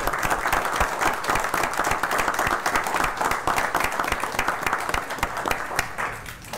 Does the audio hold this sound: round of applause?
yes